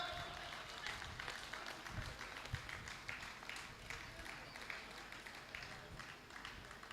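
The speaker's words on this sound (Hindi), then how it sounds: "तो ताली मैं बजाऊं?" An audience at a live Hindi comedy poetry show claps in a steady, moderately loud patter of many hands, continuing throughout with a slightly uneven rhythm and some background crowd murmur.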